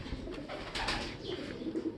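Newly arrived imported pigeons, part of a flock of about 300, give soft throaty coos in a few short repeated phrases, faint and close, with no one speaking.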